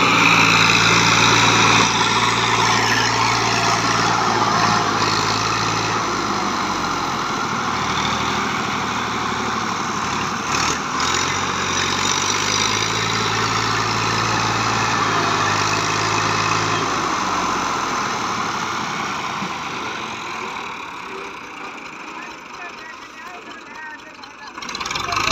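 An old Model 240 tractor engine runs with a steady, rough drone throughout, close and continuous, easing slightly near the end while a voice talks over it.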